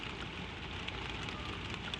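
Soft, steady patter of gentle rain falling, a continuous hiss with faint scattered drops, quiet and even throughout without any voices.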